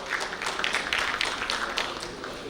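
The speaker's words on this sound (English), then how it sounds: "Can we have a round of applause" Conference audience applauding on stage cue for a regional ecosystem panel, a steady dense wash of many hands clapping at moderate distance, continuous for the whole stretch with no voices on top.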